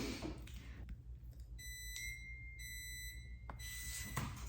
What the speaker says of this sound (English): I promise it's not the smoke alarm again, it's the treadmill turning